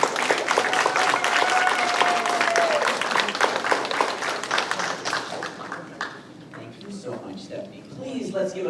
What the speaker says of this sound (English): please give a big round of applause for Dr.